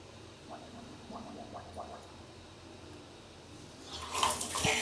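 Water from a tap runs into a freshly unclogged drain, starting as faint trickles and swelling into a louder gushing flow near the end, close by without speech.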